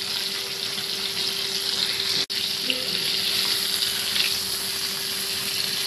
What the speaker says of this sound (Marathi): साधारण लो टू मीडियम गॅसवर आपल्याला ते परत 5 ते 6 मिनटं शिजवून घ्यायचे